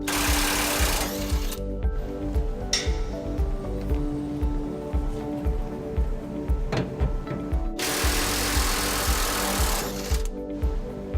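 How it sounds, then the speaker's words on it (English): An electric impact wrench with a 21mm socket removes a rear bolt on a 2013 Chevrolet Silverado 1500 during a trailer hitch installation, hammering in a loud, close rapid rattle with two harsher bursts at the start and near the end. "We got a 21mm socket on our electric impact."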